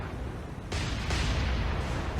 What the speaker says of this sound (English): oh, that was a magazine explosion.